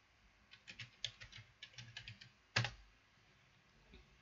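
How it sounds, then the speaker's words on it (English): Someone types a password on a computer keyboard while setting up Kubuntu on a Raspberry Pi 4, a quick run of light close key taps and then one louder press like the Enter key, with no talking. "New password, type a password that you want,"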